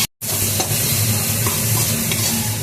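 Tomato-paste spice masala for ghugni sizzles steadily in a pan while a spoon stirs it, a continuous close frying hiss with soft scraping, no voices.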